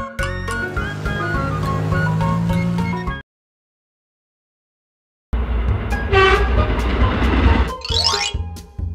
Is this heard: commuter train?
yes